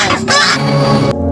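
Geese honk loudly at close range in a quick burst of overlapping calls that lasts a little over a second.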